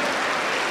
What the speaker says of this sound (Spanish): A ver, todos, todos, hagan palmas para Cristo